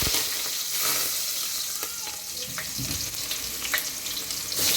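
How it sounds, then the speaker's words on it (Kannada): Chopped onions and curry leaves tempering in hot oil for a home-style fish sambar give off a steady, close sizzle, with scattered crackles and soft stirring clinks, no talking. "ಈಗ ಒಗ್ಗರಣೆ ಕೊಡ್ತಾರೆ ನೋಡಿ."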